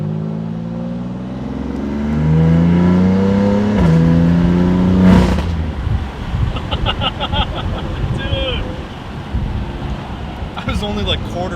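A stage 2 tuned BMW F80 M3 engine and exhaust revs up at light throttle, its tone climbing and holding loud and close before dropping off into a rough, crackling idle with pops.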